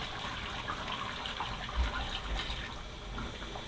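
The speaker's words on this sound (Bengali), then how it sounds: "এখন আমি পানি দিয়ে দিচ্ছি।" Hot water poured into a large goose meat curry cooking in a pot, a steady faint watery pour and splash running throughout with no talking.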